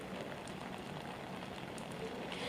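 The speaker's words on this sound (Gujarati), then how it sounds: "આ પહેલો વરસાદ છે" First monsoon rain in Ahmedabad falling as a steady, dense hiss that fills the whole clip at an even, moderate level, with no clear voice.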